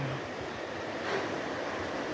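Swirling water of the Dudhkoshi River churns in a steady, broadband roar, close and continuous, with wind buffeting the microphone.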